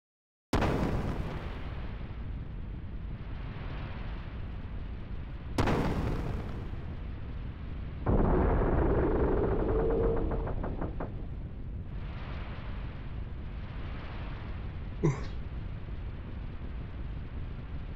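Gun blasts from the Xenogears game strike a ship: two sharp, loud booms several seconds apart, then a heavier rumbling explosion that fades into a low drone, with a small metallic ping near the end.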